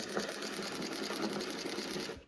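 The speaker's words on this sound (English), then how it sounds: "Servo works." A servo motor in a toy-grade RC boat upgraded with hobby-grade electronics runs briefly, a faint, rapid mechanical whirring buzz with a fast regular pulse that stops abruptly at the end.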